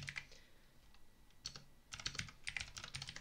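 Someone types on a computer keyboard in short runs of soft, quick key clicks with brief pauses, close and fairly quiet.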